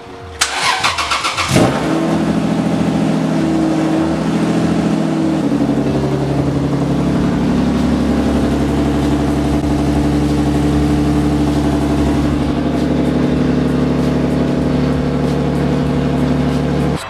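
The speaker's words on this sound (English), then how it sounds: "I started the car" A Lexus IS300 engine cranks and catches in the first two seconds, then settles into a steady, loud idle that runs evenly for the rest of the clip, close by with no talking.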